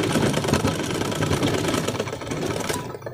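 Sewing machine stitching over a thick section of fabric and skipping stitches, leaving long uneven stitches; a steady, loud, close mechanical whir runs continuously and cuts off at the end.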